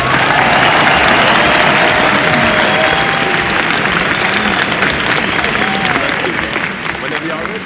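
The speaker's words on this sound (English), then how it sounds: "Ladies and gentlemen, give a warm round of applause for" Loud, sustained round of applause welcoming a musical guest at a live show, dense clapping with crowd voices mixed in, tapering slightly toward the end.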